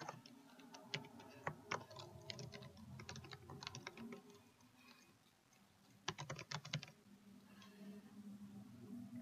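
Typing on a computer keyboard to enter credentials during a Windows 10 setup, quiet bursts of rapid close key clicks separated by short pauses, no talking.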